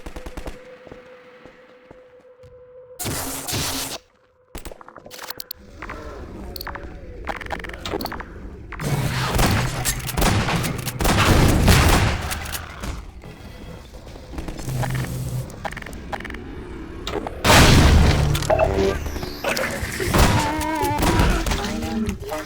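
Shotgun blasts from Half-Life 2: Episode One, a few loud, broad bursts amid busy game action and clatter, with a steady hum early and dense combat noise through the middle and end.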